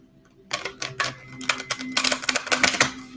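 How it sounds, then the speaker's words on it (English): Tarot cards being shuffled by hand, a run of crisp riffling snaps and flutters starting after a brief quiet pause, close and fairly loud with no voice over it. "I'm going to shuffle for you"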